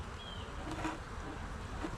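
Honey bees in an October hive inspection give off a steady close buzzing drone with no break, no voices present.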